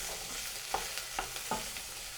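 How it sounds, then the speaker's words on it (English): Mushrooms for a risotto are stirred in a pan, a low soft sizzle with a few light scrapes and taps of the spoon, close and quiet with no voices. "give them a nice stir"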